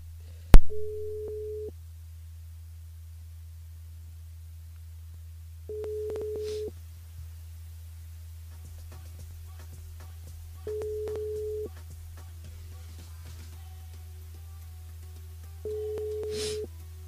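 Telephone ringback heard during a live radio broadcast before the call goes to voicemail: four evenly spaced single tones about five seconds apart over a steady low hum, with a click at the start and no talk.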